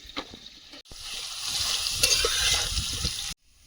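Potatoes frying in a pan, stirred so that scraping and shuffling mix with a bright sizzle. The sound is brief and breaks off abruptly near the end.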